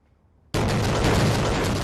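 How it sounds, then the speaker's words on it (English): Explosions in Gaza break a near silence with a sudden, loud, sustained blast rumble that holds heavy and dense, with no voices. "explosions in Gaza, smoke and flames rising from multiple blasts"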